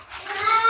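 A Hyderabadi Diana breed goat gives a single short, nasal bleat that rises in pitch, close and clear, with no talk over it.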